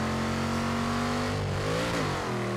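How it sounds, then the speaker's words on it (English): A 1970 Chevelle SS 454 in the racing game Forza Horizon 3 roars loud and steady under hard acceleration, its engine pitch climbing until a sharp drop and rise marks a gear change. "Man, that thing got a second gear scratch right out of there."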